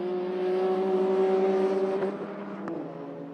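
A Lotus race car in an endurance race at Snetterton circuit howls past with a steady high engine note that drops in pitch as it turns in and fades away.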